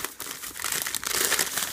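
A plastic shopping bag of Korean market groceries being handled, giving close, loud, continuous crinkling and rustling with irregular bursts.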